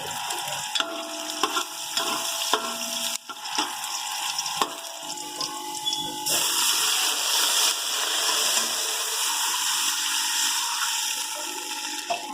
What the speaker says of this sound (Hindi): हमने इसके अंदर 1 गिलास पानी का डाल दिया।